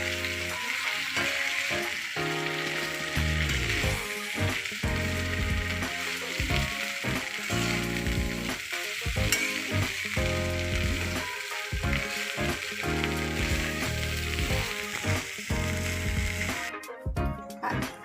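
Indori poha with lemon juice is stirred and fried in a pan, a steady sizzle under repeated scraping, clattering stirs that come in irregular bursts throughout, close and fairly quiet.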